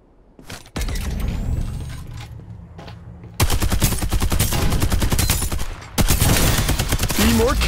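Gunfire in the video game Farlight 84 during a team deathmatch: loud, sustained rapid automatic bursts up close, with a short pause between volleys and mechanical clatter in the background.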